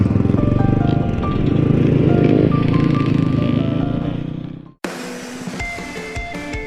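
A Honda 400EX motocross racing quad is ridden hard at New Vienna, Ohio, its engine droning and climbing loudly up close, then cutting off abruptly before a rougher, choppier engine sound takes over.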